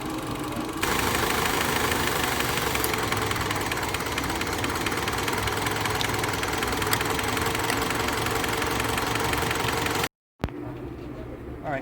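Car engine idling with the EVAP purge line pinched and the purge solenoid disconnected, a steady, close, even idle hum with a brief cutout near the end.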